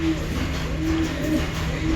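Pigeons coo softly and repeatedly in a breeding room, their low rolling calls overlapping in a steady close chorus against faint room noise.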